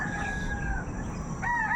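A rooster crows close by, two drawn-out calls a moment apart, over steady outdoor background noise on a rooftop garden.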